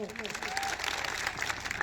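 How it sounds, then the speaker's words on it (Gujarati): A crowd at a political rally in Dediapada applauds loudly with sustained, dense clapping, while a voice carries over the applause. "એકવાર જોરદાર તાળી પાડી લો"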